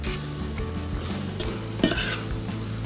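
Pasta with beans and tuna being stirred in a pan until creamy, a steady soft scraping and slushing with light metallic clinks of utensil against pot and one sharper knock near the middle, close and continuous, no voices.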